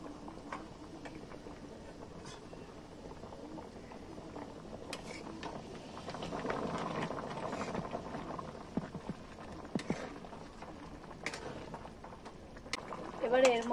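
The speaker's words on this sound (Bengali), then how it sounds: "এবারে দেখো গরম জলটা দিয়ে দিচ্ছি" Hot water poured into a pot of goat mutton curry cooked with yogurt, a soft bubbling, splashing liquid rush that swells midway and lingers under a faint voice.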